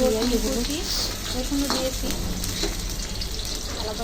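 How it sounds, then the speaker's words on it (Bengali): Onions frying in hot oil in a wok (kadai), a steady close sizzle and crackle with occasional stirring clinks, continuous throughout. "কড়াইয়ের মধ্যে তেল বসিয়ে দেবো এখন পেঁয়াজগুলো একটু ভেজে নেবো"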